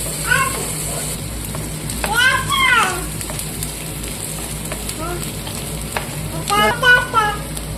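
Onions fry for broccoli masala in a pan, a steady sizzle with stirring, while children's high voices and a cat-like meow sound intermittently in the background.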